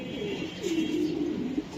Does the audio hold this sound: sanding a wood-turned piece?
no